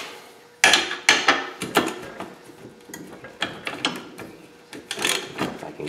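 A wrench working a 17 mm pound-on nut loose gives a run of sharp metallic clicks and knocks in an uneven rhythm, close and fairly loud, with no talking.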